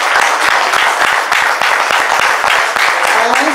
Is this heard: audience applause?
yes